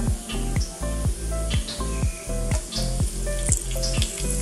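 Curry leaves hit hot oil for baingan bharta and crackle loudly, with repeated sharp pops and snaps over a steady close sizzle in an Indian home kitchen.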